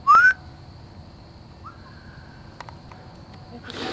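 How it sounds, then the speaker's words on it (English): A person gives one short, rising whistle at the start, loud and close, followed by a hushed outdoor night background with faint distant sounds. "Right after I whistled."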